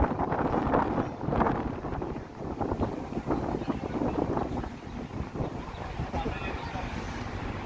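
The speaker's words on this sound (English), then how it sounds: "comes the wind again." Breezy wind gusting through a Toronto city street on a Sunday afternoon, a steady close buffeting rumble against the microphone that swells and eases, with faint street sounds beneath.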